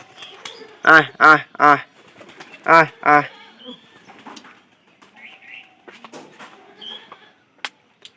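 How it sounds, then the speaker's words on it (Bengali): A few loud harmonic pigeon calls from birds on a tin roof, in two quick clusters, stand out over quieter chirps and faint background activity. "এই যে আমাদের টিনের উপরে কিন্তু আছে কবুতর"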